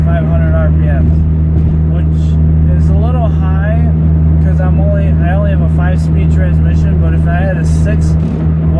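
Steady engine drone from a car cruising at 60 mph on the highway, 2,500 RPM in top gear of a 5-speed manual, a low constant hum with road noise, while a person talks over it throughout.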